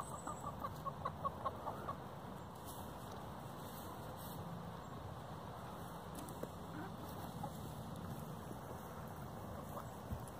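Farmyard chickens give a quick series of soft rhythmic clucks early on, then the scene settles into a quiet outdoor hum with occasional faint knocks and rustles, distant and low in level.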